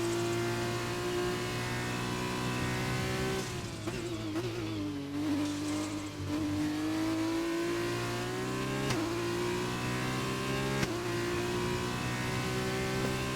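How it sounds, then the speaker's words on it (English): A racing engine in a Formula 2 video game drones at high revs, its pitch dipping sharply at each upshift before climbing again; several shifts in steady, loud succession. "I really like the sound when the engine makes when you shift up here in these cars."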